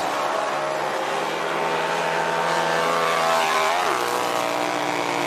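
A Harley-Davidson motorcycle taking off in an X Games snow hill climb quarterfinal race produces a continuous loud engine roar that holds steady, then dips in pitch near the end.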